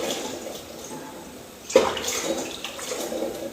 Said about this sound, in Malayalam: ഇനി നല്ല വെള്ളത്തിൽ കഴുകിയെടുക്കാൻ പോവുകയാണ്